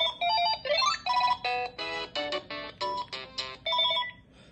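A telephone base bought at a thrift store rings its electronic ringer in repeated short trilling bursts of bright tones, close by and clear, with no one speaking.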